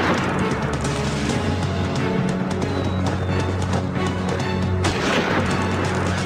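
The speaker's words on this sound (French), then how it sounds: "les agents de la GRC sont au cœur d'une fusillade" Dense, loud gunfire and booming blasts in a reenacted shootout between RCMP officers and a trapper, forming a continuous roar of overlapping shots with no voices.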